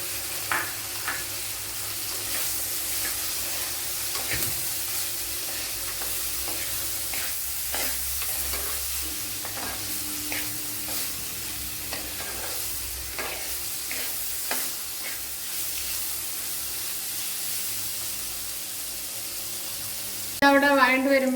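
Chopped drumstick pieces sizzle in a pan while being stirred, giving a soft continuous fry with scattered scraping clicks and knocks of the utensil, steady and moderately quiet, ending in a brief louder clatter.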